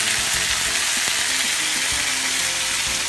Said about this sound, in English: As you see the garlic starting to brown, you want to go ahead and add off our already previously grilled veggies